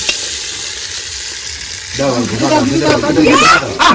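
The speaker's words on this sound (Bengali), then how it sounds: "এবার ফোড়নটা দিয়ে দেবো দাও দাও দাও এটাই তো মাদাদার সাউন্ড" Spice tempering with chopped ginger hits hot oil for a khichuri, a loud bright sizzle that swells and crackles, with a person talking over it in the second half.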